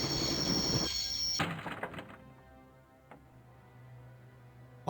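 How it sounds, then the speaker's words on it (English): A train braking to a halt in the Broken Sword adventure game, with a loud rumbling run-in that cuts off sharply, then fainter mechanical clanks and a low steady hum as it settles. "I'd always wanted to stop a train, and now was my chance."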